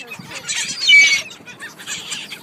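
A large seagull being fed gives loud, harsh squawking calls in two bursts, the first stronger and longer, nearby and with no speech over them.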